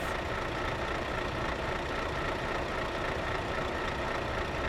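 A truck engine idles steadily at the end of a long drive, a constant broadband rumble with no change in pitch or level across the few seconds, nearby and alone with no talking.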